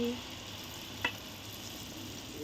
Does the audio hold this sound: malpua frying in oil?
yes